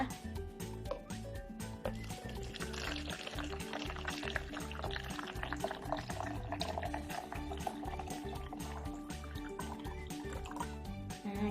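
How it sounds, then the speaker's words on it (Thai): Plain water poured into drinking glasses, about half full, for a floating-egg science activity; the soft liquid trickle runs quietly under steady background music. "เทน้ำเปล่าลงไปในแก้วทั้งสองใบนะคะ ประมาณครึ่งแก้วนะคะ"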